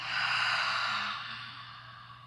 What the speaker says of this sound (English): take one final deep, deep cleansing breath all the way down into your belly